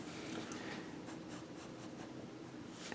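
Pencil on paper while drawing a unicorn pony, heard as a close, steady, dry scratching and rubbing that runs unbroken for a few seconds with no voices.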